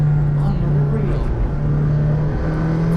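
A McLaren Senna with a roughly 800 hp engine drones loudly at a steady pitch, with a brief dip around a gearshift partway through. A voice talks over the engine noise.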